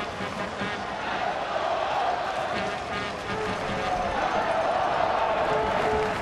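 Baseball stadium crowd at an Oakland A's game roaring after a home run, a broad sustained cheer with clapping, swelling slightly toward the end.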